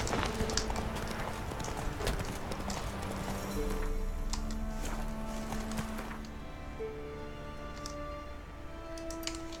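Roach the horse's hooves in The Witcher 3, a steady quick clip-clop rhythm of galloping hoofbeats, close and moderately loud, with faint ambient sounds behind.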